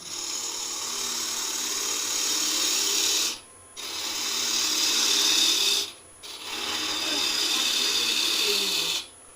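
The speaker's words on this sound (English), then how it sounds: "pivot the tool handle in towards the lathe so the tip comes out" A wood lathe turns a green wood Easter egg as the tool tip cuts, giving a steady close scraping hiss in three long runs broken by two brief pauses.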